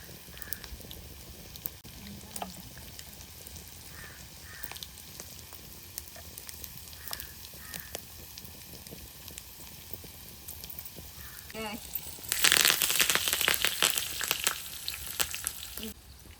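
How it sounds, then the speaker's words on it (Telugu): Oil heating for a tempering over wood-fire embers, with a steady low crackle and sizzle that swells into a louder, brighter burst of frying near the end. "ఆ నిప్పుల మీదేమో ఆయిల్ వేడెక్కుతుంది. తాలింపు రెడీ అవుతుంది."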